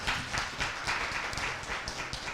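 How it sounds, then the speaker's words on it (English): An audience at an election forum for New Mexico House District 23 claps for the candidates. The applause is dense and steady, running from start to finish without a pause. "Please give them a round of applause."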